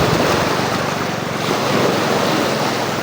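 Steady rushing of lake waves lapping and washing on Laguna de Bay in Binangonan, Rizal, loud and close, mixed with wind buffeting the microphone throughout.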